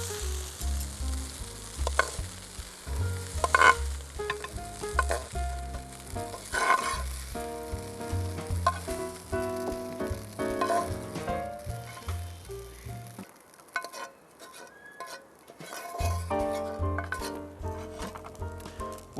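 Fried rice sizzles and crackles in a hot pan with clattering stirring and scraping, steady and close, with a brief lull before the sizzle returns.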